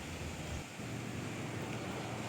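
The Ethipothala waterfall on the Chandravanka river, swollen after days of heavy rain, roars as a steady, dense rush of falling water. The sound is continuous and broadband, with a brief dip in the low rumble partway through.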